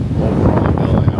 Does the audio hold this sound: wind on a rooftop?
yes